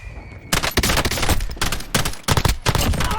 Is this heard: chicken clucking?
no